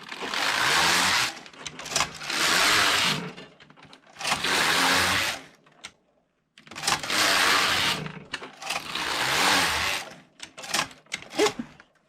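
A Passap E6000 knitting machine knitting rows, its carriage making repeated loud mechanical whirring passes of about a second or two each, separated by short pauses.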